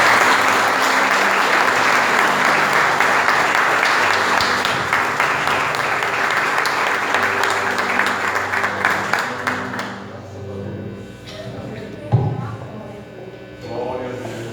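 Church congregation clapping loudly in praise during a service, a dense sustained burst of many hands over a low hum that fades out after about ten seconds, leaving quieter room noise and a brief voice.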